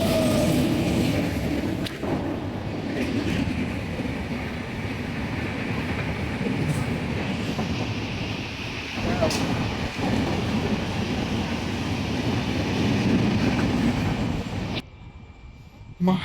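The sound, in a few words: train departing from station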